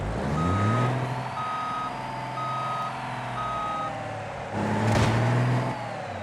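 Evenly spaced electronic reversing beeps from a truck backing up in the BeamNG driving game, sounding four times over a steady engine hum, with a louder burst of revving near the end.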